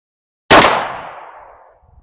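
A single loud gunshot fired into a pillow, a sharp sudden blast at close range followed by a fading ringing decay.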